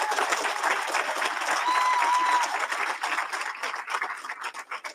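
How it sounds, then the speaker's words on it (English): A crowd applauds in a dense burst of clapping that fades toward the end, lasting a few seconds. "Can we give another round of applause?"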